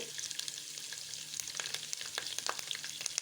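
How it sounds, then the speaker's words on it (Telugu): Peanuts and curry leaves fry in hot oil with a soft, continuous crackling sizzle and faint stirring scrapes, all fairly quiet and close, with no voices. "ఈ పల్లీలు పల్లీలు వేగిన తర్వాత ఇందులోకి మనం ముందుగా తుంచి పెట్టుకున్న కరివేపాకును కూడా యాడ్ చేసుకోవాలి"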